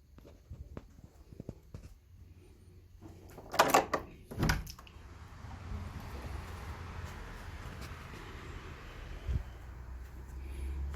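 A house's front door opens or closes with a couple of sharp knocks and clatters, followed by steady low ambient rumble and faint footsteps indoors.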